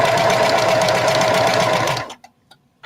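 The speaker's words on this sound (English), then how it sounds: "So I'll stitch over my pin." A sewing machine stitches over a pin on a blinged-out bucket hat, a loud close motor whir with rapid needle rhythm for about two seconds, then stopping with a few faint clicks.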